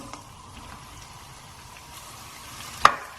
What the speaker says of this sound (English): And we're going to saute these onions till they turn a light golden brown.